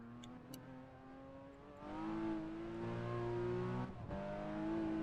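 A car accelerates hard out of a right-hand corner on a track lap, its engine note climbing in steady harmonic bands, surging louder midway and holding a strong, close revving drone.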